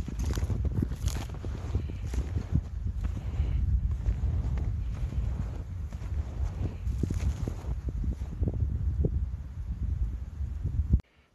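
Wind blows steadily across a snowy Adirondack lakeshore after a snowstorm, a low continuous rumble buffeting the microphone for the whole stretch before cutting off abruptly.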